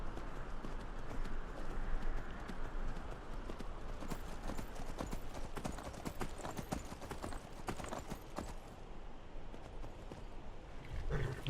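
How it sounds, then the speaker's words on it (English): Horse hooves clip-clop steadily on the ground in the video game Skyrim, a brisk continuous run of hoofbeats close by over a constant ambient bed, fading toward the end. "There's a horse there,"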